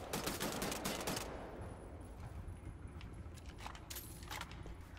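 Assault rifle fire in the shooter game Wolfenstein: The New Order, a loud rapid burst of shots that stops after about a second, followed by fainter scattered shots and clatter.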